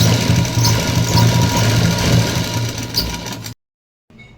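A sewing machine runs loudly and continuously, stitching a straight seam on cloth for a small dress, then stops abruptly, with a brief soft rustle after the silence.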